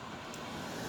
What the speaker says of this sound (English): All this traffic on this street is ridiculous.